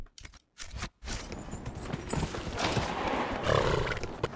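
Horse hooves clip-clopping in the video game Dragon Age Inquisition, a quick run of close hoofbeats with brief gaps at first, then a denser rumbling gallop blending into game sound.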